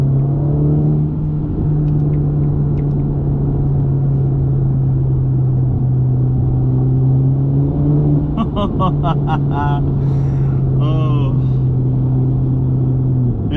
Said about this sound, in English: this is the first time I can actually go under an overpass and actually hear the exhaust in a car I'm driving